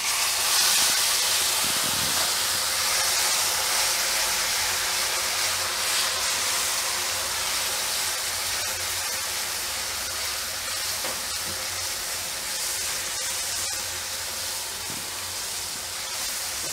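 Onions dropped into hot oil with spices for chhole, a loud steady sizzle and hiss that fills the whole clip, holding constant with small crackles and fading only slightly toward the end.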